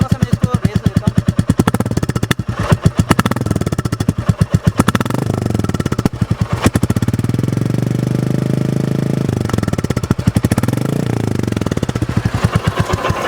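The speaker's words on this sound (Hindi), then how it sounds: "मैं इसका पूरा आपको एग्जॉस्ट साउंड सुना देता हूँ" 2021 Royal Enfield Classic 350 heard up close at the exhaust: a deep, thumping single-cylinder idle beat that rises into repeated revs and falls back, loud and steady.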